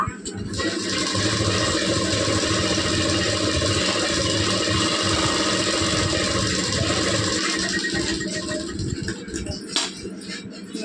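A sewing machine runs steadily, stitching a shape belt onto a garment's chest section, a continuous dense motor whir with rhythmic needle chatter, fairly loud and close throughout, faint background noise underneath.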